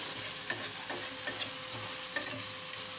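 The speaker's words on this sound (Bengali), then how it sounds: "ভেজে নিচ্ছি," Ingredients for a Bengali doi rui fish curry fry in a pan, giving a constant bright sizzle broken by several light scraping strokes of a stirring utensil, close and without speech.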